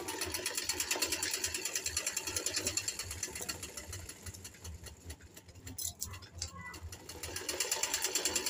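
A sewing machine stitches a suit in a fast, rhythmic clatter that slows and stutters briefly midway, then resumes its steady run.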